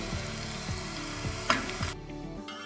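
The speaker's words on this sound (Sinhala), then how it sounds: "ගැඹුරු තෙලේ තමයි අපි පොඩ්ඩක් තෙල් වැඩිපුර දාලා බටු ටික හොඳට බෙද ගන්න ඕනේ" Brinjal pieces deep-frying in plenty of hot oil give a steady, close sizzle with a few soft stirring scrapes and a brief sharp clink partway through, the crackle easing off near the end.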